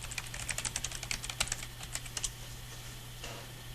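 Fingers typing a search query on a computer keyboard, a quick run of close, light key clicks for about two seconds before trailing into quiet.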